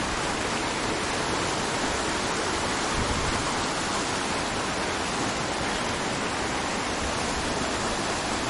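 Ushu waterfall in Kalam, Swat, roars as a loud, steady broadband rush of falling water that fills the scene without pause, with no voices standing out.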